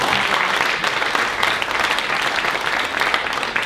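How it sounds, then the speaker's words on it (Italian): A theatre audience at a performance of Aristophanes' Birds in Cassano allo Ionio gives a dense, sustained round of applause welcoming the bishop to the stage, loud and even throughout with no talk over it. "che inviterei qui con un applauso"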